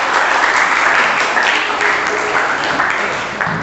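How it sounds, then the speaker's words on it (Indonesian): Classroom group applause during a teacher performance assessment session, dense steady clapping from many students filling the room at close range, tapering slightly near the end. "Tepuk tangan untuk kita semuanya."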